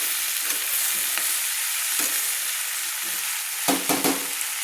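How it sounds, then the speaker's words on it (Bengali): Potatoes, spring onions and slit green chilies being sautéed in hot oil for a spring onion and prawn dish, a loud continuous sizzle with a few stirring scrapes and clatters near the end. "দিয়ে আবারও ভালো করে একটু কষিয়ে নিচ্ছি তেলের সঙ্গে"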